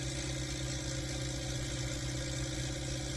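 A modified HMT 3522 tractor engine runs loud and close, with a steady, heavy diesel rumble and a dense, even vibration for the whole stretch, with no voices.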